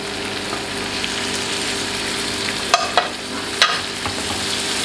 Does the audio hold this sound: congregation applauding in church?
no